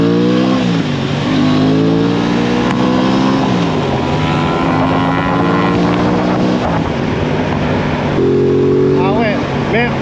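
A BMW GS1300 motorcycle rides on a road in Guadeloupe, its engine droning loud and close through several rising and falling gear changes, with wind buffeting the microphone and voices faintly underneath.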